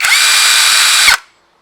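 A TANZU TZ-880 cordless impact wrench whirs loudly and steadily at high speed for about a second, then cuts off abruptly into silence.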